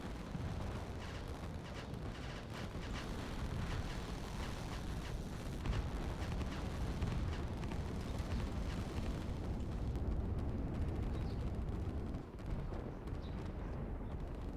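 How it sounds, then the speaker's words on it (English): Missile ships exploding in the real-time strategy video game Line War, a dense continuous rumble of overlapping blasts and booming detonations that stays loud and steady throughout, with no talking. "Down go Meheecan's missile ships."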